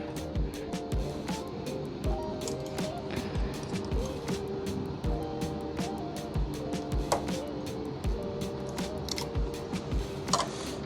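A Brother KH588 standard-gauge knitting machine works wool past a knot, giving a steady mechanical clatter and whirring with repeated carriage strokes and small clicks, close and fairly loud throughout.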